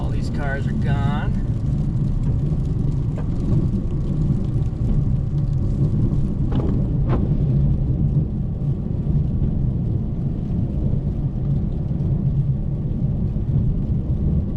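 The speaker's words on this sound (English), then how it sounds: "Truck's moving." A truck moves on a snowy street during the season's first snowfall, a loud, continuous low engine rumble that fills the whole stretch, with a few brief higher sounds early on.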